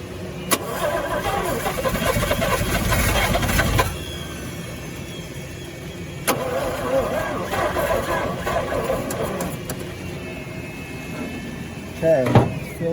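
A 1954 Chevrolet 150 engine, choked after sitting, fires up and runs roughly with cranking bursts, stalls around four seconds, restarts and keeps running loud and close, with an extra rattle near the end.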